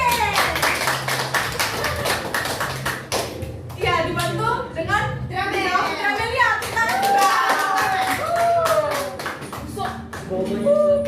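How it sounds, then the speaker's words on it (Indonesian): Schoolchildren in a dance class clap their hands together in a brisk, crowded burst at the start, then the clapping fades as a teacher and children talk. "tepuk tangan untuk Putri C."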